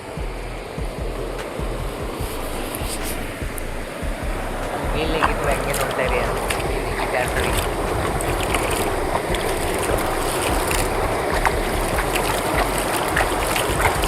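Fresh water in a stream rushes over the ground in a steady, continuous wash at close range, growing slightly louder and brighter partway through.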